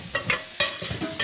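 Shrimp drop into melted butter in a pan and fry with a soft, close sizzle, broken by a few quick stirring scrapes over a second or so.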